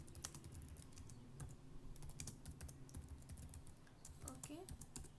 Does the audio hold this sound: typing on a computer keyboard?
yes